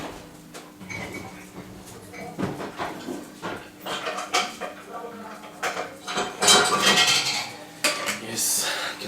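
Metal pots and pans clank and scrape repeatedly up close, with irregular knocks and rattles of cookware being moved about.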